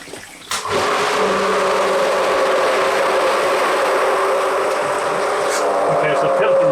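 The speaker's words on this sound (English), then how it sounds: "and then turn the pump on" Pool pump switched on in filter mode for a newly installed inground wooden pool, starting with a click and then running as a steady loud motor drone with rushing water, close and constant.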